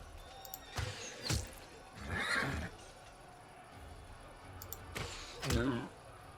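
Horses neigh and whinny during combat in the video game Pathfinder: Wrath of the Righteous, with several sharp bursts spread across the clip over a low game backdrop.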